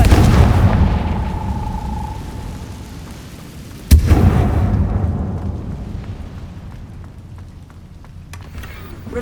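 Confringo fire-blast spell explosions in the game Hogwarts Legacy: a rumbling blast fading out, then a sharp second burst with a long decaying roar, loud and close.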